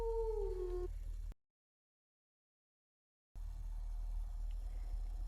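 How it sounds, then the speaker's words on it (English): A wolf gives a short howl, a smooth sliding tone that falls off within a second, followed by silence and then faint background noise. "wolf"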